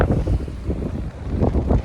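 Steady wind buffeting against the microphone in low rumbling gusts, outdoors near the sea at a lifeboat station, with no voices.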